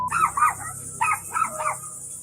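Two puppies bark in short high-pitched bursts, two yaps then a pause and three more, over a steady insect-like hiss in a quiet home at night.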